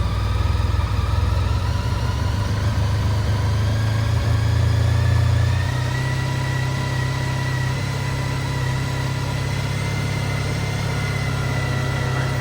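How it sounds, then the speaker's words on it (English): Honda ST1300 Pan European motorcycle engine running at a steady idle, a loud, constant low rumble that eases slightly about halfway through, with no talking. "turn the bike on, get the bike started"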